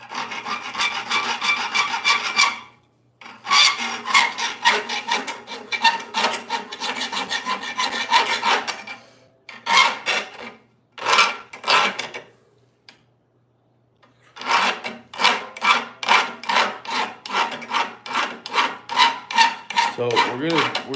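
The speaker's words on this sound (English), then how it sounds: "So we're just gonna start filing this to make it a little bit more inviting to the mouth" A half-round file rasps across a hand-forged steel camp spoon in steady, close back-and-forth strokes, broken by a few short pauses.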